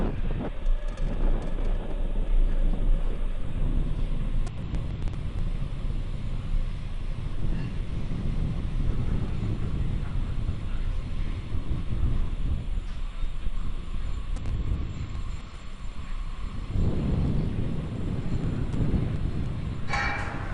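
Simulated Falcon 9 rocket engines at liftoff from Vandenberg Space Force Base, in the game Kerbal Space Program: a loud, steady low roar that rumbles throughout, swelling again near the end, with no talk.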